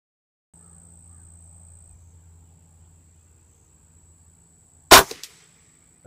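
A single sharp crack from a .22 pellet air rifle fitted with a MidTen 3-9x32 scope, followed by a brief clatter, close and loud against a faint steady whine and low background hum.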